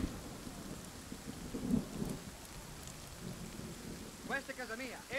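Thunder rolls and rain patters in the pirate video game Skull & Bones. Low rumbles swell and fade over a soft, steady hiss, and a brief voice-like sound rises near the end.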